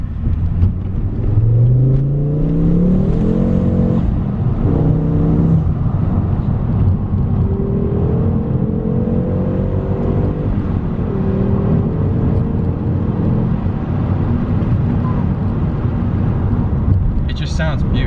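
A Ford Focus ST engine revving while driving, heard from inside as a loud rumbling drone that climbs and falls through the gears, with someone talking over it.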